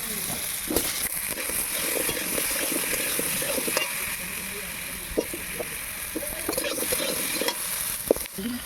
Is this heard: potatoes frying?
yes